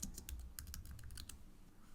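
A computer keyboard is typed on in quick bursts of light clicks during work in Adobe After Effects, with the keys fading out into quiet room tone.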